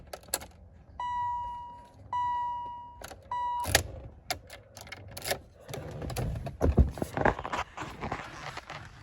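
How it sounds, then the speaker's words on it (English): Warning chime of a 1986 BMW 528e, a clear repeating electronic tone sounding three times in quick succession, followed by key jangling, clicks and door or window movement inside the car. "listen to this chime. It's so sick."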